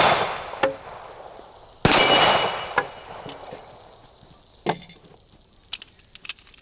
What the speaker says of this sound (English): Oh, I'm hitting chains and everything else here.